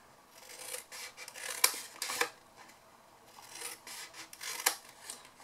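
Paper being cut with scissors while sections of a craft box are trimmed down, giving a run of crisp snips and rasping cuts, a few sharper slices standing out, close and fairly quiet.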